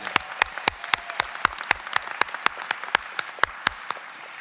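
At a high school commencement in a performing arts hall, a crowd applauds graduates while a single nearby clapper stands out with sharp, evenly spaced claps, about four per second, over the softer audience clapping.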